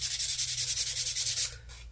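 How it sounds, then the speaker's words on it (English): A belt sander grinds bottle openers in a fast, even, pulsing rasp up close, then eases off and fades near the end. "the belt sander worked very, very well"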